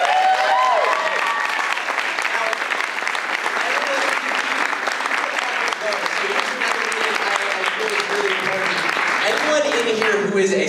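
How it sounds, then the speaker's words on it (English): An audience at a Q&A event gives a long, loud round of applause for the guests, with full steady clapping throughout and a few voices heard within it. "I want to give everybody a huge round of applause to our guests."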